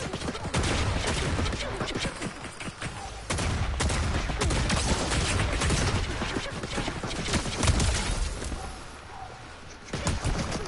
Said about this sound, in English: Don't mind me, let me shoot you.